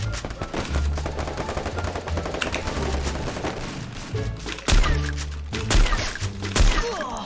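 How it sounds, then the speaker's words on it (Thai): Gunfire rings out in a shooting video game featuring a Barrett sniper rifle: loud, dense shots and impacts crowd the whole stretch, with heavier thumps near the end. "อะไรวะยิงมันไม่ตายวะนะ อ้าวมันยิงกูเจ็บด้วย"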